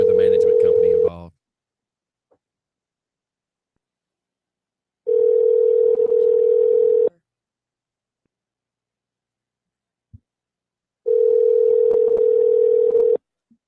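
Telephone ringback tones while calling a number, three long steady tone bursts separated by several seconds of silence, loud and clear with no talk.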